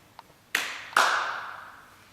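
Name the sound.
hands clapping along to a children's song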